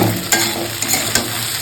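Chowmein with potato, egg and onion fries in a pan, a steady sizzle broken by several sharp scrapes and clacks of stirring, with no talk.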